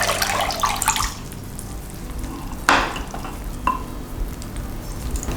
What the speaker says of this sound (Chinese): 换上过滤水，清洗一下，把竹笙立起来